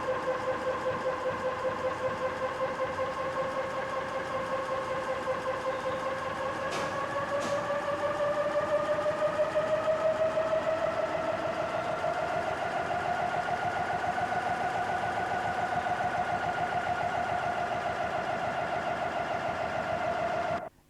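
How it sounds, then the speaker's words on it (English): A 1991 Atkinson cycle engine runs on a Ricardo electric dynamometer with a steady mechanical hum whose pitch rises gradually as the speed climbs, then holds constant for the rest of the run. "The testing of the engine was carried out on a Ricardo electric dynamometer capable of starting the engine"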